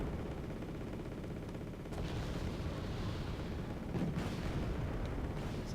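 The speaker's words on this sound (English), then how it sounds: "I'm gonna try and be a little dangerous and call in some airstrikes on those guys" Airstrike explosions in the video game Wargame: Airland Battle, a dense, continuous rumble of blasts and battlefield fire, with heavier bursts around the second and fourth seconds and no talking.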